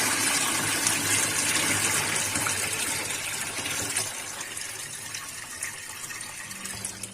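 Red chillies, a kilogram of them, being rinsed in water at home to wash off dust; water gushes and splashes steadily and loudly throughout, like a running tap filling a vessel, easing slightly toward the end with no talk.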